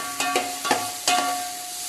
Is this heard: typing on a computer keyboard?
no